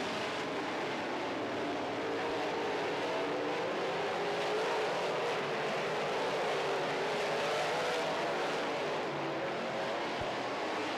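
Modified race cars circle a track during a feature event, producing a continuous, somewhat distant roar of several engines that rises and falls as they pass, with no clear talk.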